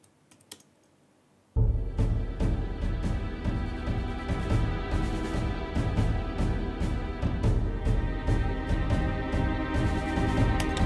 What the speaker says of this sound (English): So with the strings on the tremolo, they sound like this.